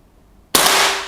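A single sharp, loud air rifle shot cracks after a moment of near silence, followed by a brief ringing tail.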